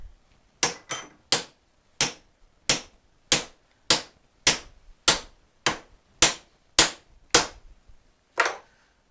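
A hammer strikes a wooden knife handle bonded with Flexepox epoxy about thirteen times, each hit a sharp, loud crack separated by short, fairly even pauses.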